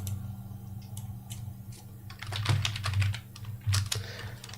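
Fingers type on a computer keyboard in quick, uneven bursts of close key clicks over a steady low hum. No one speaks.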